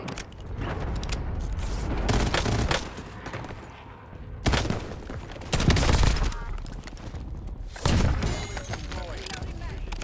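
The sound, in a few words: Vertox 5.7 pistol gunfire in video game Call of Duty Rebirth Island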